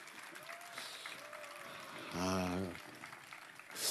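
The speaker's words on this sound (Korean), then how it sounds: "박수 한번 보내주시기 바랍니다" Applause from an audience at a political talk concert rattles steadily throughout while a voice speaks over it, swelling briefly near the end.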